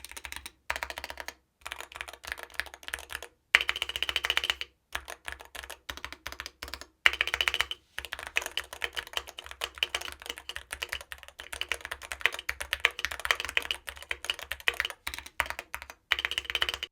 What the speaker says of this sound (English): take a quick listen to this keyboard and I'll talk about it.